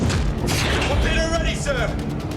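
Enemy artillery fire in a war documentary reenactment: dense booms and crashing blasts at close range, overlapping into a constant loud barrage with a voice speaking over them.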